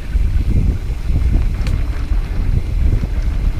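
Strong wind buffets the microphone in a steady, heavy low roar with gusty swells, continuous and close throughout.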